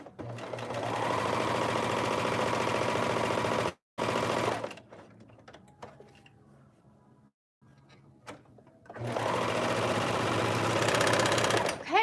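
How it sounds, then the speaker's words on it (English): Serger overlock machine stitching a shift dress, loud steady bursts of running that stop briefly near four seconds, go quiet with faint handling sounds in the middle, then resume loudly for the final stretch. "we have completed serging our dress"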